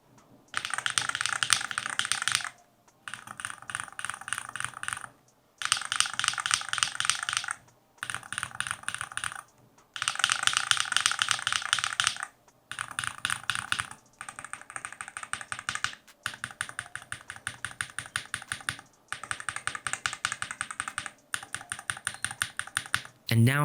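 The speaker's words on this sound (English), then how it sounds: "The Astro Aim sounds lower and thuggier than the Astro Link, and they feel a little bit more grounded." Typing on an Akko MOD68 HE keyboard fitted with Astro Aim magnetic Hall-effect switches, with a steady, fairly loud clatter of keystrokes in bursts separated by short pauses, clearly close and alone.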